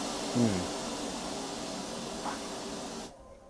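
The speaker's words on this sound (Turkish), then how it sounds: "Şu an mesela kalkıyor araba." A Mitsubishi Safir bus raises itself on its suspension with a steady airy hiss that stops abruptly near the end, heard close up inside the vehicle.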